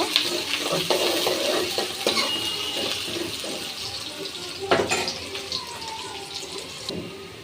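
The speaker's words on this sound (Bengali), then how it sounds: "পেঁয়াজটা একটু লাল লাল করে ভেজে নেব" Chopped onion fries in oil in a pan while meat curry is being cooked, a steady sizzle with close stirring clatter and occasional sharp utensil knocks, no voices.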